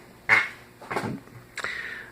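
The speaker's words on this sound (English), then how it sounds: "Scotch game call, duck call." A Scotch duck game call gives three separate honking quacks, close and fairly loud, with quiet pauses between them and no talk.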